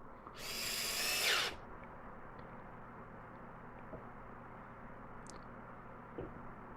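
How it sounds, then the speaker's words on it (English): A power drill whirs in one short, close burst of about a second while driving screws into a cedar rail, followed by quiet room tone with a couple of faint knocks. "I'm simply pre-drilling the horizontal rail and screwing it into place."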